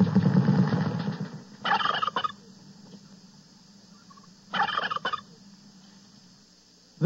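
Turkey gobbles burst out twice in a radio turkey shoot contest segment from a 1978 Thanksgiving broadcast, each a short loud warbling cluster, following an opening stretch of barnyard fowl noise and separated by quiet gaps.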